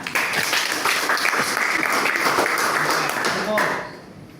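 Classroom applause after a student's question in a Python and AI programming lesson, a dense burst of many hands clapping at moderate volume that stops abruptly near the end.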